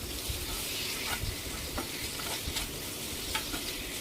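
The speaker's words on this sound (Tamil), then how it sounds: "அந்த பீஃப் லிவரில் எல்லாத்துலேயும் மசாலா கோட் ஆகுற மாதிரி நல்லா 2-3 வாட்டி ஃப்ரை பண்ணிக்கிறேன்" Beef liver coated in masala frying in a pan, a constant hissing sizzle with repeated light stirring scrapes and taps, close and fairly quiet, with no voices.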